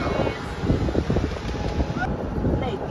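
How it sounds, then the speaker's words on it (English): Strong wind buffets the microphone outdoors during a high wind warning, a steady loud roar with gusty rumbling throughout, while a voice talks faintly underneath. "We're dealing with a high wind warning today."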